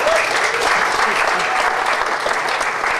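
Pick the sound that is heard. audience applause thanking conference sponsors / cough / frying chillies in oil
audience applause thanking conference sponsors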